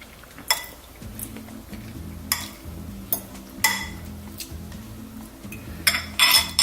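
Potassium lye mixture with chicken pieces stirred in a container, giving a string of sharp clinks and knocks of a utensil against the vessel at irregular intervals over a low swishing, fairly close and loud.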